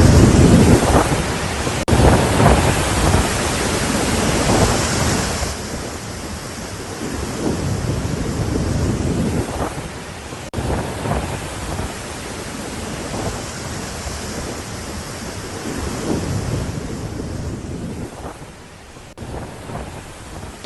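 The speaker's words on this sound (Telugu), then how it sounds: "తుంగభద్ర నుంచి 33 గేట్ల ద్వారా దిగువకు నీటిని విడుదల చేస్తున్నారు." Water pours through 33 open gates of the Tungabhadra dam in a heavy, continuous roar. The broad rushing wash stays loud throughout, like a storm or surf, with no voices.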